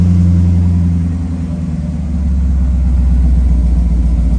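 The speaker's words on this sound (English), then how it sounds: "let's find out how loud this thing is with just two middle mufflers" A Holden VT Clubsport's 5-litre V8 rumbles close by through an exhaust with only the two middle mufflers fitted, a deep steady idle that dips briefly then swells back, loud and alone.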